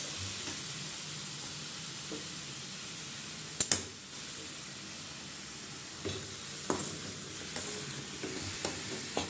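Gentle sizzling hiss of mushrooms frying in a pan, with occasional sharp scrapes and taps of a utensil stirring.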